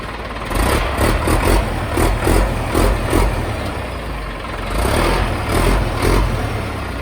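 A Caterpillar 518 skidder's 140-horsepower engine runs loud and close, a rough diesel rumble that swells with throttle blips and then settles back.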